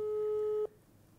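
A phone call is placed, and a single steady electronic telephone tone sounds loud and clear before cutting off abruptly, leaving faint background hiss.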